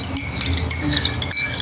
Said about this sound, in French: Allez, en double touille.